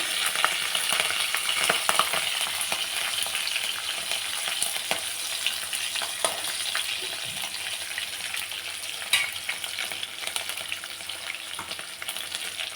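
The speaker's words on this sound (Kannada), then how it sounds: "ನೆಕ್ಸ್ಟು ಹಸಿಮೆಣಸಿಕಾಯಿ, ಚೆನ್ನಾಗಿದೆ. ಖಾರನೆಲ್ಲ ಎಣ್ಣೆಗೆ ಬಿಟ್ಕೊಳ್ಳಿ." Green chillies frying in hot oil for upma, a dense crackling sizzle up close, louder at first and then settling, with occasional stirring scrapes and no voices.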